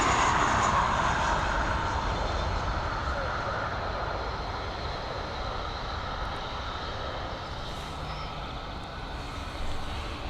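A Boeing 737 arriving at Dublin Airport gives a steady, moderate engine roar that fades gradually, heard from a distance.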